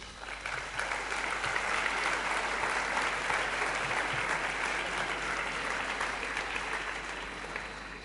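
Steady applause from an audience at a town festival proclamation ceremony (pregó) in Molins de Rei, sustained and even throughout with no speech over it.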